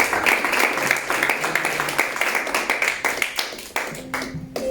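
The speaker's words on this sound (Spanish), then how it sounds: "¿Quién puede aplaudir?" Church congregation clapping at a Spanish-language evangelical service, a dense run of close, quick claps that thins toward the end, with faint voices beneath.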